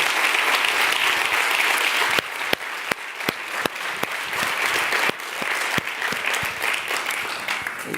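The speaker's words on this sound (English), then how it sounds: "let's give a well-deserved round of applause for each of the panelists" Audience applause for panelists at the Superheroes of Development 2024 award ceremony, sustained clapping from a room of people with a few sharper individual claps standing out.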